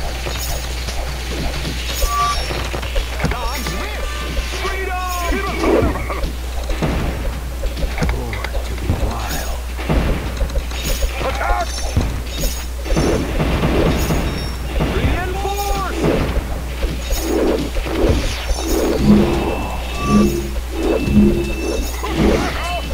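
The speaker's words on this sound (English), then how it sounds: "Shrapnel explosions" Shrapnel explosions in the Kingdom Rush tower-defense video game, a dense run of repeated sharp blasts and clattering effects layered over busy game sounds and a constant low hum, with a voice talking over them.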